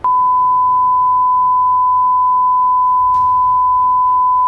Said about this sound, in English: Third alarm.